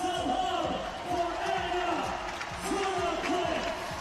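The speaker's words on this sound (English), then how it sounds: "Crowd cheering on Anna Tunnicliffe on the final leg of her 1 mile run" A crowd cheers on a runner during the final leg of a one-mile run, a steady, moderately distant roar with repeated whistle-like calls rising above it.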